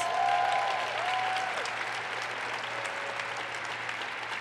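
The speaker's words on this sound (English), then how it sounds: "Please give her a round of applause." An audience at an award presentation breaks into sustained applause, loudest at the start and then settling into an even wash of clapping with no speech over it.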